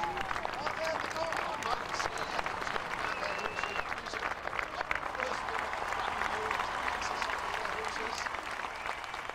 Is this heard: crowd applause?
yes